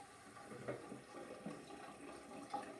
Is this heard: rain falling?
no